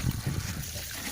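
Water trickles and splashes softly while a sheep's head is rinsed, with water run through the nasal cavity to clean it. A few low, close gurgles come first, then it fades to a faint steady dribble.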